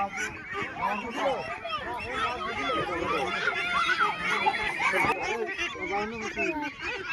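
Many 45-day-old ducks honk and quack at once in a dense, continuous flock chorus, close by, during duck plague vaccination, with a few human voices mixed faintly into the din.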